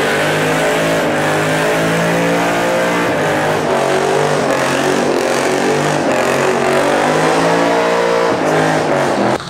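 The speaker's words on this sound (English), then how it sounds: "Here's my 1968 Camaro that it started off as a autocross slash drift build" A 1968 Chevrolet Camaro autocross and drift car revs loudly and close, its engine note rising and falling through repeated throttle blips over a continuous rough, harmonic-rich roar.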